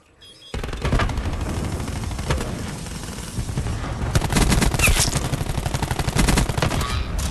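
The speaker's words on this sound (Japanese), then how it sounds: "ダメだ、またスナイパーライフルだよこれ。" Sustained gunfire from Call of Duty Black Ops 4 multiplayer, loud dense bursts of rapid shots running almost continuously after a brief quiet start, with heavier volleys in the second half.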